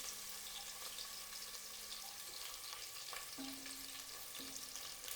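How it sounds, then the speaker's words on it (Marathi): Hand-crushed garlic frying in oil for an Indian crab curry gives a quiet, even sizzle with light stirring, and a few faint tonal hums and clinks sit in the background without any speech. "आता लसूण छान असा तेलावरती परतून घ्यायचा आहे."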